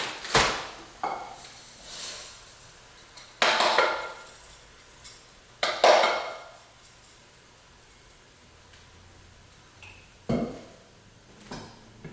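A cooking pot handled on a home stove while lunch is made, with sporadic sharp metallic knocks and clanks spaced out over the clip, a few louder bangs among quieter taps, no talk.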